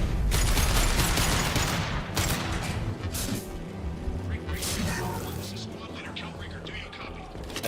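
Rapid bursts of submachine gun fire ring out in Mass Effect 2 combat, loud and clustered early and then tapering into scattered shots and impacts, with a voice talking over the action.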